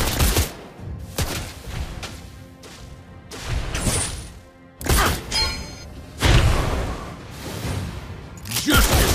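Rapid bursts of gunfire from the hero Clint in a mobile battle arena game, firing in loud repeated volleys with crashing impacts, dense and close throughout.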